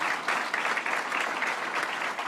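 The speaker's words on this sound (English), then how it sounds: "So let's give a round of applause to Mayor Byron Brown." Audience applause at a public event in Buffalo, dense continuous clapping at moderate level from a crowd, even and sustained with no voices on top.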